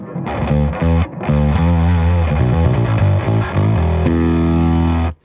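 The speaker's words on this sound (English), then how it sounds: "Or or turn it way up, so you got raging distortion." A bass guitar played through an EBS Billy Sheehan Ultimate Signature Drive pedal turned up to heavy distortion, a loud, fuzzy run of notes ending on a sustained growling tone that cuts off abruptly.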